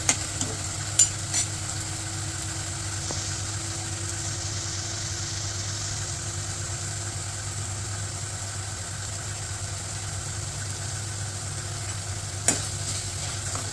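Onion frying in oil in a pan while making mutton masala, a steady soft sizzle running throughout with a low constant hum beneath and a few faint clicks, no talking.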